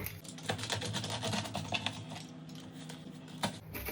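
A knife cuts on a tabletop: rapid, quiet tapping clicks of the blade striking the surface in uneven bursts, close but faint.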